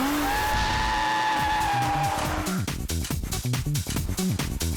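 Drifting car whipping around with tires squealing and skidding, loud and close, first a long sustained screech then choppy bursts of tire noise and engine revving.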